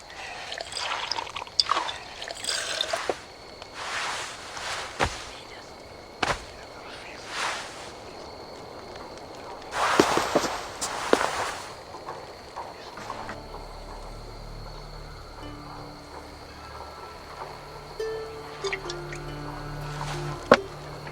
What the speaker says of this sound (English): I feel like Thor chugging oceans